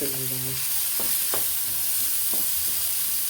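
Onion frying on a gas stove, a steady close sizzle with a few stirring scrapes and knocks of a utensil against the pan.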